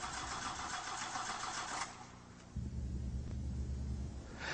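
A car engine cranks over on the starter, a steady mid-pitched churning rumble that shifts and deepens partway through, close and loud with no talk.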